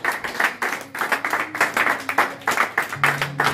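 A church congregation claps rhythmically to acclaim Jesus during a French-language worship service, with sharp, evenly spaced hand claps close by and a faint sustained tone entering near the end.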